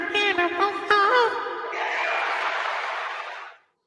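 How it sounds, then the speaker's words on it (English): Applause and cheering from a studio crowd rises after a short burst of talk, a dense wash of clapping that holds steady for about two seconds before cutting off abruptly. "I was waiting for the applause."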